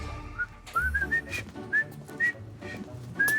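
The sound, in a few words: human whistling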